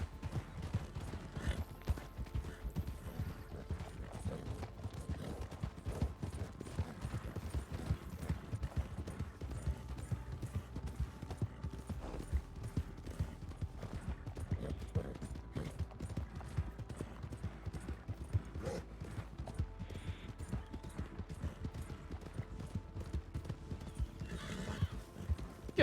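Horses in Red Dead Redemption 2 roleplay clop and shuffle continuously, with scattered whinnies, a dense, steady, moderately faint stretch with no talk.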